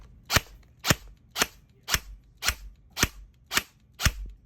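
Eight sharp, evenly spaced shots from an airsoft gun fitted with an Eshooter Kestrel V2 ETU, each a crisp close snap, fired alone at a steady semi-auto rate.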